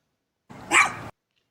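A single short dog bark, sharp and fairly close, standing alone against silence.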